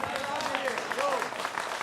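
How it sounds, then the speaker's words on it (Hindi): Light clapping for a participant in a televised Hindi news debate, a thin patter of claps running steadily under people talking over one another. "I'm clapping for you"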